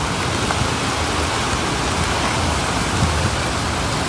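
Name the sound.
heavy rain pouring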